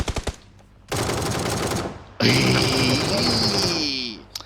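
Rapid automatic gunfire in the battle game PUBG, loud bursts with a short pause between them, mixed with other game sounds and a talking voice.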